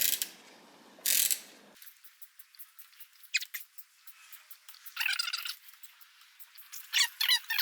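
A ratchet loosens the nut on a C4 Corvette shock absorber, giving quick close clicking bursts with pauses between them, sharp and light against a quiet background.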